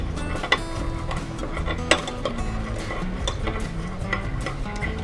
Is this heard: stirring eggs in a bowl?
yes